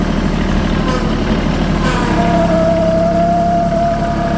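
A tractor engine with a fault runs loudly and steadily nearby, a heavy diesel rumble with a rising whine partway through.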